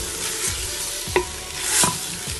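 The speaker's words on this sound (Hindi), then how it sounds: "भुनाई हो रही है इसकी।" Ginger garlic paste fries in a pan for a white chicken korma, with a steady close sizzle broken by a few sharp scrapes and clinks of a spoon stirring against the metal.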